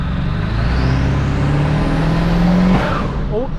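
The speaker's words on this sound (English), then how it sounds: "Oh, blew a boot off." A 7.3L diesel truck drives under load as a turbo boost boot blows off, a rising engine and turbo whine that ends in a sudden whooshing release near the end.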